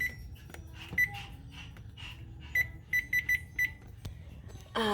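Short electronic beeps from an oven control panel being set to a baking temperature, several quick chirps scattered over quiet room noise.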